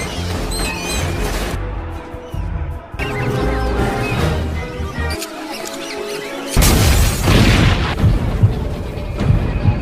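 Rats exploding in a film scene, loud booming blasts and crashes in bursts separated by brief quiet gaps, with a heavy, dense final stretch.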